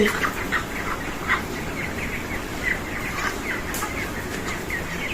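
Broiler chickens on a poultry farm cluck in short, repeated calls scattered over a low background hum, fairly faint and with no one talking.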